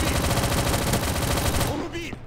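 Rapid automatic gunfire from the Roblox game Recoil on a Nuketown map rattles densely and loudly, almost continuous, then cuts off near the end.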